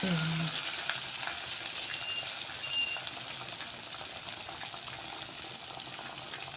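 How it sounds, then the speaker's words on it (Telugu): Pieces of food frying in a pan, a steady dense sizzle of hot oil running throughout at moderate level, close and alone without any talk. "ఇదిగోండి ఇవి కూడా ఫ్రై అయిపోతున్నాయి"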